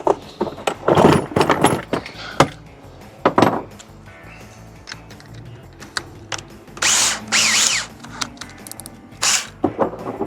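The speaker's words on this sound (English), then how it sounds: "Now let's go drill some holes." Power drill boring holes to mount a tank in a truck bed, several short close bursts of whirring with pauses between, plus clanks and handling noise.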